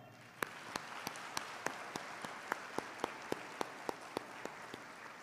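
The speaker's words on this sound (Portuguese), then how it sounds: "pedindo uma salva de palmas ao reitor" Applause from an audience at a university literary festival comes through as sharp, evenly spaced claps at a quick steady rhythm, each crisp hit standing out over a soft background murmur.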